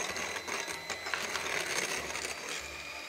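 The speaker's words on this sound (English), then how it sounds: "with the beaters running, you can start whisking in that sugar" Electric beaters whisk stiff egg whites while sugar is added, a steady mechanical whirring with rattling clicks against the bowl, continuous and close with no talking.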